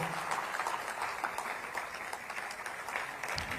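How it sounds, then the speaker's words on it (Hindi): Steady crowd applause at a felicitation ceremony, many hands clapping together in a dense, continuous patter at moderate volume. "बहुत बहुत तालियों से अभिनंदन हो"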